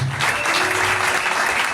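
A church congregation applauding during the opening of a mission centre, steady, dense clapping filling the room with a faint tone ringing underneath.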